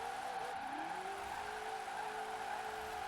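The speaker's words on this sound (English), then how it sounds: "And it seems to drift quite well." Studebaker Golden Hawk Dream Roadster drifting in Forza Horizon 4, a steady engine drone with rising and falling tire squeal sweeping through, continuous and fairly loud with no talking.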